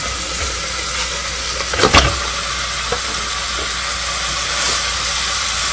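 Hamburger meat browning in a pot of chili with green peppers and celery: a steady, broad sizzling hiss throughout, with a brief louder crackle of stirring near the middle.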